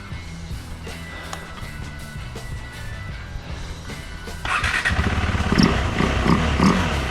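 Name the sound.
KTM 390 Adventure motorcycle engine running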